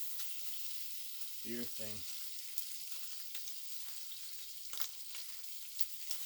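Bacon fries in a pan with a soft, steady sizzle and light crackles, fairly faint, while someone briefly speaks over it.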